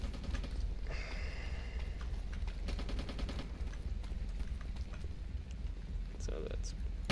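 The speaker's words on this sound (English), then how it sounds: "I heard gunfire from a distance." Distant gunfire in the Wargames video game, a couple of rapid bursts like automatic fire in the middle of the clip, faint against steady background noise with voices nearby.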